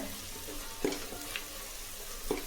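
Rice and vegetables being sautéed in a pan, with a faint, steady sizzle and a few soft scraping stir strokes, heard close and alone.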